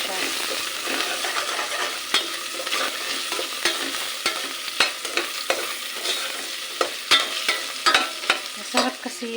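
Pakbet vegetables with onion and garlic fry and sizzle in a pan, stirred with frequent sharp scrapes and clicks of a utensil against the pan over a constant hiss.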